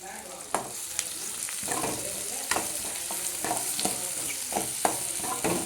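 Chopped onions sauté in oil in a pan, a steady close sizzle broken by regular scraping stirs of a spatula, with no talking.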